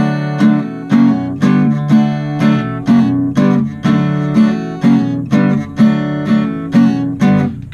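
Acoustic guitar strumming the verse chords of a song, including F resolving to C, in steady quarter-note strokes; about sixteen even, ringing strums, loud and alone.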